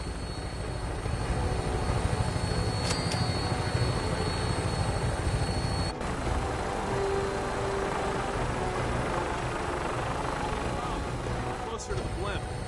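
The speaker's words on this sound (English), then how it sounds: "Tinker's gonna keep the vertibird spooled for an immediate takeoff" Vertibird aircraft in Fallout 4 spooled up and flying, a steady droning engine and rotor hum that continues throughout, with a couple of sharp clicks.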